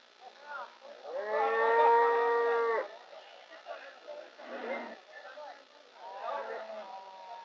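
Cattle at a busy livestock market in Ashulia, with one long, loud, close moo in the middle and fainter calls and crowd murmur around it.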